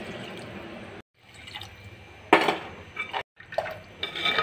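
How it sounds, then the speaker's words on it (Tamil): Water poured into a pan of simmering fish curry in a home kitchen, including water used to rinse a mixer jar, with splashing and trickling bursts and brief pauses, close by and moderately loud. "அதுக்கப்புறம் தேவைக்கு தண்ணி ஊற்றிக்கிடலாம்"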